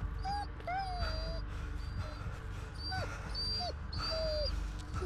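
A dog in the Blair Witch video game whimpers in a series of thin, high, rising and falling whines, several short cries spaced over a few seconds, over a low steady game background with voices talking.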